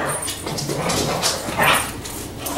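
Several household dogs whimper, yip and bark indoors, an excited, overlapping run of high whines and short yelps at close range with no talk.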